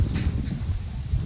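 Strong wind blows outdoors, a steady low, rumbling buffet against the microphone that fills the whole moment with no voices.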